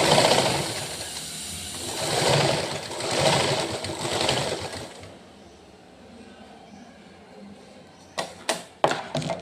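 Sewing machine running in steady bursts while stitching pleats on a patiala salwar, a close rhythmic whirring hum that fades out, followed by a few sharp clicks near the end.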